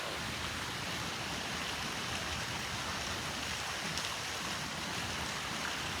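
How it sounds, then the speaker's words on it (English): Steady broadband rush of a waterfall spilling into a stream, constant and full with no breaks, heard alone without any voices. "I want to show y'all this beautiful waterfall."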